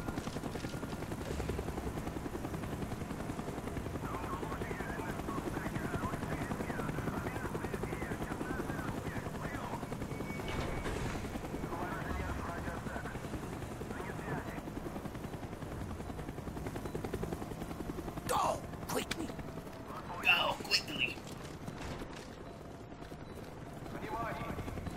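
A helicopter in the video game Call of Duty: Black Ops thrums steadily over a long stretch beneath game dialogue, with bursts of gunfire and impacts breaking through toward the end.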